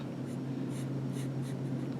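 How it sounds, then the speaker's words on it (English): Quick, rhythmic squeaky strokes of a Sharpie marker outlining a saw-piercing design on paper, close and faint, over a low steady hum. "you can get a pen or a Sharpie and you can outline your design"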